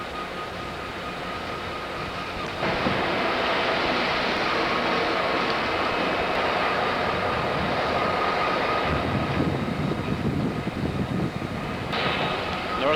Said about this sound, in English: The ICE train is getting ready to depart.